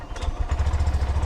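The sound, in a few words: motorcycle engine running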